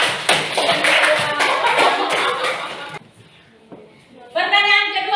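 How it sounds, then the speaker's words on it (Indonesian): Junior high students in a civics class clap together in a lively burst lasting about three seconds, which then stops abruptly, leaving a quiet room before a voice begins speaking. "berikan tepuk tangan ya"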